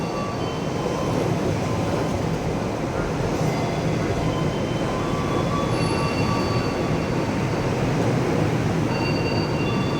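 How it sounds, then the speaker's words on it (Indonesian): A KRL commuter train on the Jakarta rail line rolls past steadily for the whole stretch, a loud, continuous rumble of wheels on track with a thin squeal running over it and no break in the noise. "Kereta Cakrabuana."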